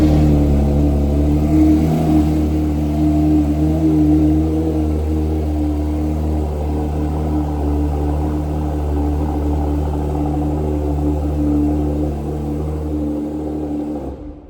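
A Porsche GT3 engine runs through a cold start with a loud, close, rumbling idle. It hums and revs steadily with strong low harmonics that ease off slightly toward the end, and no one speaks over it.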